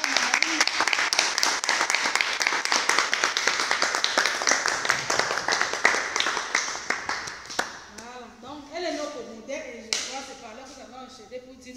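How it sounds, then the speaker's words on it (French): An audience at a Catholic talk on the Virgin Mary claps for her, a dense patter of many hands that thins into scattered claps and fades after about eight seconds, with voices and murmuring taking over at the end. "on peut quand même applaudir pour maman Marie"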